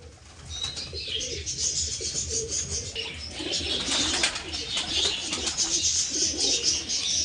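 Kaldom and Laldom pigeons in a loft coo repeatedly in soft, overlapping calls, with occasional wing flaps and rustling close by.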